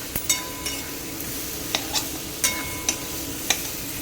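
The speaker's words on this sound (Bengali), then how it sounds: "এই যে এখানে আলুর দম কষছে, পেঁয়াজ রসুন টমেটো বাটা দিয়ে।" Aloo dum being sautéed with onion, garlic and tomato paste in a pan, a loud continuous sizzle punctuated by sharp spatula scrapes and clinks every half second or so, close up.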